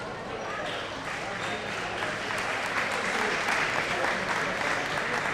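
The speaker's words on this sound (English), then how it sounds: "crowd cheers as he starts to get up" Cheering crowd at a boys' high school basketball game in a gym, a steady loud roar of voices and applause rising slightly as an injured player gets back up.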